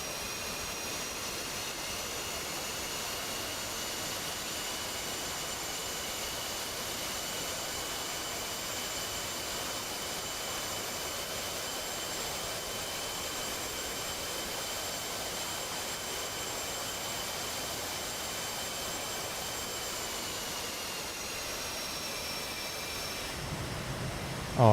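An F/A-18C jet sits on a carrier deck in the DCS flight game, its engine a steady, droning whine with whistling tones that holds for about 24 seconds as power is added. A brief knock comes at the very end.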